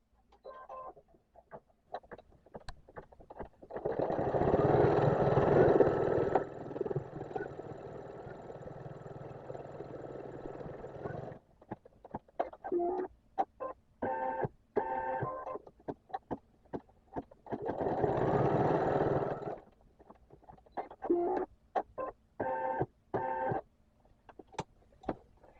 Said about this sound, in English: now it's going to stitch down for the placement for your sewing